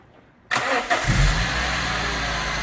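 Car engine for Project ZX cranking and catching after timing work, bursting suddenly to life from near silence and settling into a loud, steady idle close by.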